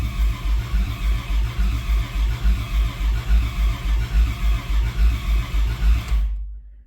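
Engine of a 1991 Dodge Grand Caravan SE cranking over on a first start attempt, a loud steady rhythmic churn of the starter that runs for about six seconds without catching, then stops abruptly.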